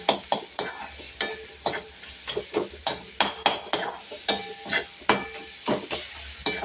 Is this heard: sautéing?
yes